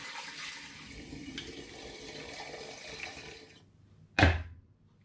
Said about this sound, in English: I'm now going to pour this back into the demijohn.